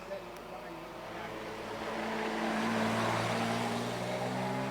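A vintage sports car with a straight-six AC engine, a design first made in 1919, runs at Prescott with a steady low droning rumble that swells slightly louder midway and holds, with a faint voice underneath.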